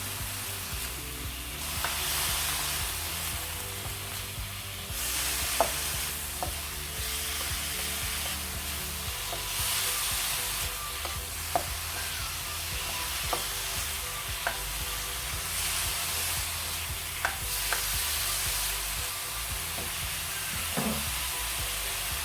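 Chicken with salt, garlic powder, ginger powder and red chili powder being stirred and fried in a pan, a steady close sizzle with intermittent clicks and scrapes of the utensil, no talking.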